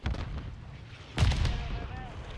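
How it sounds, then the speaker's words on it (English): A stun grenade goes off in Call of Duty: Modern Warfare as a single sharp, booming blast in the middle. Faint game noise and radio-style voices are heard around it. "Throwing a stun grenade."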